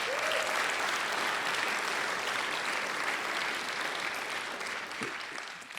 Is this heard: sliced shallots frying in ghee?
no